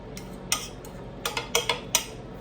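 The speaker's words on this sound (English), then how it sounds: "Now I'll add some tomatoes, chopped tomatoes to it. Just stir it in." A utensil clinks and scrapes against a pot while chopped tomatoes are stirred into a meat and vegetable pie filling, a few soft taps spread over a couple of seconds, close and fairly quiet.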